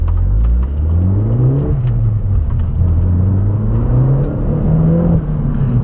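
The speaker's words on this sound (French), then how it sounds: "le son à l'échappement, je vais vous le mettre" Opel Corsa OPC with 230 hp, its exhaust rising as the engine accelerates, loud and continuous with clear pitch climbs through successive gears and a brief dip near the end, no talking.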